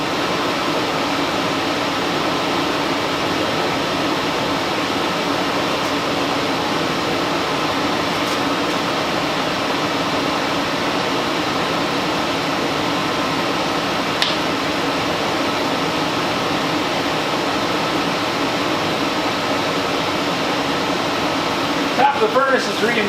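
A furnace combustion blower runs during a test fire, giving a steady, loud broadband whoosh and hum that stays even throughout, with a few faint clicks and a brief rattle near the end.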